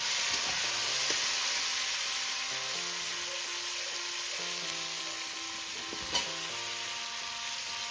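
Cauliflower and radish stems fry in oil with potato, giving a loud, continuous close-up sizzle. A few soft stirring scrapes and one sharp clink sound over it.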